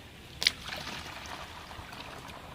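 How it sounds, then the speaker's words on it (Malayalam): Homemade nannari sarbath syrup is poured, a soft continuous liquid trickle at low level, close by, after a brief sharp clink at the start. "ഇത് നന്നായി ഒഴിക്കുന്നുണ്ട്"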